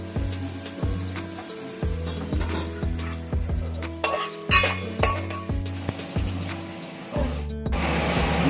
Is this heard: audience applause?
no